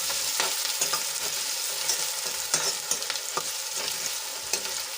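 Two medium finely chopped onions fry in oil with cloves, a bright close sizzle punctuated by rhythmic scraping strokes of a spoon stirring them through the pan.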